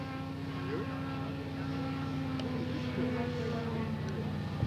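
A Newport scale model aircraft comes in to land, its engine a steady, moderately loud drone that holds through the landing approach, with no talk over it.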